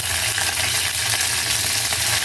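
Steady sizzling of green chillies frying in hot oil, close and continuous, with no voices.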